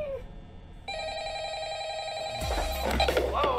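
A telephone rings in the Five Nights at Freddy's video game, a sustained electronic ringing tone that starts after a short quiet moment and keeps going, joined by a loud low-frequency rumble and clatter toward the end.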